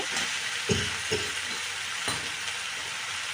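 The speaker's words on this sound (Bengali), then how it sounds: "আলু পটল চিংড়ি একদম মশলা সব একসাথে সুন্দর করে কষিয়ে নিচ্ছি" Potato, pointed gourd and shrimp fried together with spices in a pan give a steady, close sizzle, broken by a few stirring scrapes and knocks. No one speaks.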